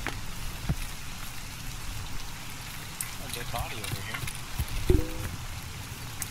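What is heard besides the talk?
rain falling in a video game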